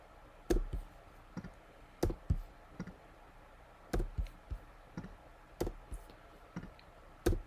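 Sharp mouse clicks land in uneven bursts of two or three while colour swatches are picked in design software, close and clear over a quiet background with no talking.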